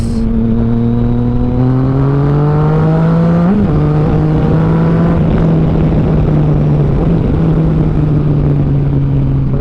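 A Yamaha Tracer 900 motorcycle fitted with an Akrapovic full exhaust system cruises on a highway, its engine droning loud and steady with rising and falling revs and wind rush throughout.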